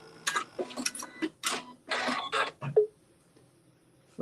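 Sewing machine stitching a quilt seam with right sides together, a few short bursts of mechanical whirring and ticking, close and fairly loud, followed by quiet.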